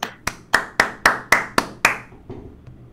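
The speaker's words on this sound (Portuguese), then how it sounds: "palmas para os jovens que estão assistindo aí" A single person claps nine times in a steady rhythm in support of young viewers, each clap sharp and close, fading into quiet room tone at the end.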